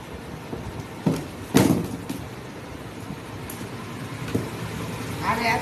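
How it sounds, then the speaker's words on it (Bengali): Road traffic passes near a home kitchen: a steady low rumble of vehicles with a few louder thumps and passing swells, a faint voice occasionally under the noise. "আর এত গাড়ির আওয়াজ"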